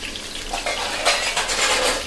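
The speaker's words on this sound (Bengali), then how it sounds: "এরকম ঢাকনা দিয়ে ঢেকে নিতে পারেন আমি ঢাকনা দিয়ে ঢেকে ভেজে নিই" A lid clanks down onto a pan of food frying over medium heat, with a metallic clatter cutting through a steady, close sizzling hiss.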